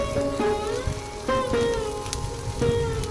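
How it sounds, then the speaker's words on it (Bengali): Ground spices sizzling in hot oil during a Bengali hilsa fish and spinach recipe, a steady close crackle with occasional stirring scrapes and clinks, no voices. "গুঁড়ো মশলাগুলো খুব ভালো করে তেলের মধ্যে কষিয়ে নিচ্ছি"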